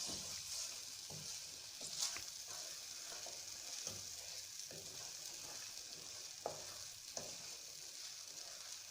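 Peas and chicken fry in a pan, giving a constant soft sizzle with intermittent scraping knocks of a spoon stirring the mixture, fairly quiet and close, with no one speaking.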